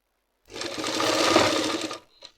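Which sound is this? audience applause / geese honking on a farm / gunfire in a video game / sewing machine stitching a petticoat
sewing machine stitching a petticoat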